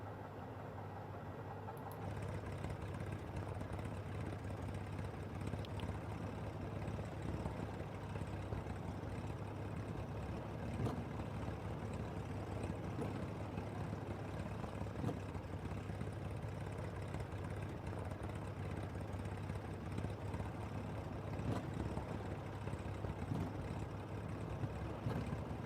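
SimWorks Studios RV-10 light aircraft taxiing in Microsoft Flight Simulator: a steady, low engine drone and propeller hum at idle, constant and unbroken from a close outside view.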